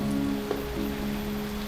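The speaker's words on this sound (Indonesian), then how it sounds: "kebetulan hari ini kita hujan gerimis" Light drizzle falls at an ancient Islamic royal tomb complex in Indonesia, a soft, even hiss of rain steady throughout with no voices.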